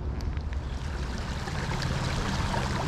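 Creek water flows in a continuous rushing wash, steady and close, with a faint low hum beneath.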